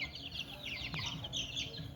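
Young fighting rooster stags clucking and chirping in a steady, busy flock chatter, fairly close, with a low rumble beneath and no talk.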